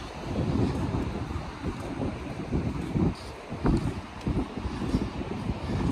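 Broad, steady surf noise rolls along a beach at sunset, the rush of waves mixed with gusting wind buffeting the microphone, continuous and moderately loud with no talking.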